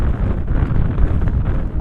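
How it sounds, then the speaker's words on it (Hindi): Strong, gusting wind during a New York snowstorm buffets the microphone with a loud, continuous low roar that barely lets up, with no talk. "बहुत तेज हवा है, मुझे लगता है मैं खुद उड़ने वाला हूँ।"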